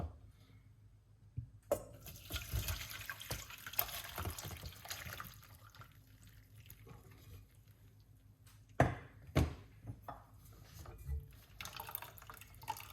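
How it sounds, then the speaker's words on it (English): Tea being poured nearby, with soft splashing and trickling, plus a couple of sharp knocks and clinks partway through. "Pour it off."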